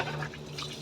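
Water poured from a tap or container onto potted plants and a cement floor, a steady close trickle and splash with soft dripping throughout.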